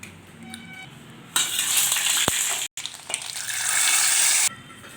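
Bottle gourd curry frying in hot oil, a steady bright sizzle that swells in partway through, dips for a moment, then continues loudly before easing off near the end, with no talk over it.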